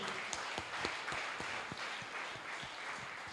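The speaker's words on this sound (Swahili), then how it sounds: "Pigia hao watu makofi wote ambaye wameitwa." A church congregation at a Sunday service claps together in a soft, steady rhythm, the applause distant and fairly faint with no talking over it.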